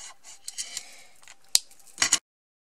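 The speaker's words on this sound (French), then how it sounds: "je vais couper ce qui dépasse" Scissors trim excess washi tape from a scrapbook album page: a few quick close snips and rustles of paper, ending with a louder double cut, with no talk.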